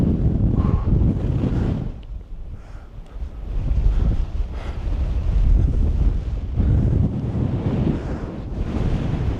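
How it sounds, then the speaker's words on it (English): Strong wind buffeting the microphone on a 1,708-metre summit of Seoraksan, a loud roaring rumble in gusts that ease briefly and return, with no voices. "It's a bit windy."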